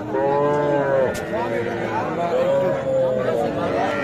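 Cattle, including small young bulls and heifer calves, moo loudly and repeatedly at a livestock market, long drawn-out calls overlapping one another, with people chattering in a busy crowd around them.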